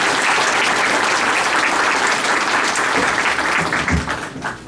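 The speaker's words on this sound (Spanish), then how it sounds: "al maestro José Antonio Bermúdez Manrique con un fuerte aplauso." Sustained applause from a seminar audience welcoming a law lecturer, dense steady clapping that fills the room and begins tapering off near the end.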